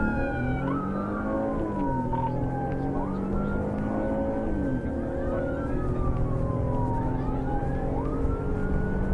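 Police car sirens wail continuously during a high-speed chase, several overlapping rising and falling tones sweeping over a steady road and engine rumble.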